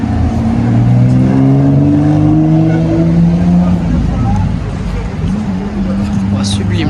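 Sports car on a Paris street revving, a loud engine whose pitch climbs steadily then eases off, resonating between buildings, with faint street sounds toward the end.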